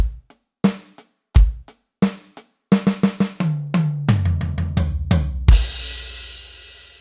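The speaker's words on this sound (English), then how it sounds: "1 bar of rhythm, 1 bar of fill transitioning into the bass crash" Solo drum kit plays a bar of a basic beginner rhythm with kick and snare hits, then a bar of tom fill that rolls straight into a loud bass drum and crash cymbal hit ringing out at the end.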